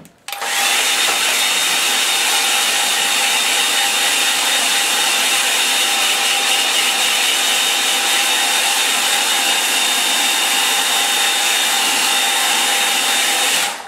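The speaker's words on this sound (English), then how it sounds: "I'm going to just dry it off, so take your headphones off" A hair dryer blows steadily and loudly on a wet black ink and watercolour tree painting, a constant whooshing whine running unbroken for about fourteen seconds, starting and stopping abruptly.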